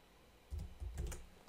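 A few quick keystrokes tapped on a computer keyboard while entering text for a SolidWorks 3D text design, short soft clicks in a brief cluster, close and fairly quiet with no talking.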